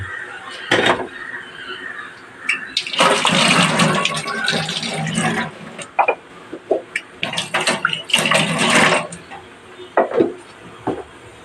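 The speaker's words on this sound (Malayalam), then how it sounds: "മിക്സിയിൽ കുറച്ച് വെള്ളം ഒഴിക്കുന്നുണ്ട്" Water gushes and pours into a mixer jar for chutney in two longer bursts with a few shorter splashes between, close and fairly loud.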